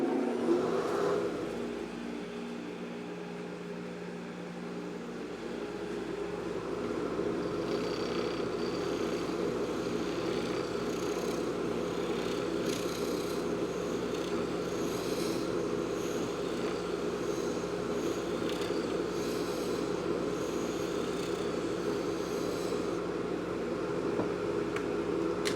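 A blower runs steadily in a pen-turning workshop, giving a constant mid-range whir and hum that swells slightly after the first few seconds and then holds, close and without speech.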